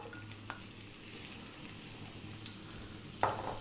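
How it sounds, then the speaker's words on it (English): Sliced onion in hot olive oil for Iranian lamb stew sizzles steadily at a low, even level, with a single sharper crackle near the end and no voices. "We're going to drop in our sliced onion."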